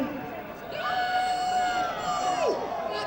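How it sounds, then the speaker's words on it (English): A rugby league crowd at Toronto versus Halifax in London lets out a long, sustained howl at the PA announcer's urging, the drawn-out wail rising over general cheering and chatter before tailing off. "Toronto PA announcer encouraging the crowd to howl"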